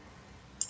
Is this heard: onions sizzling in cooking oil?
no